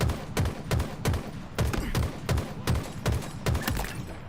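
Halo gunfire comes in rapid repeated bursts, roughly two shots per second, each with a heavy low thump. The rhythm stays even and loud throughout, with no talking.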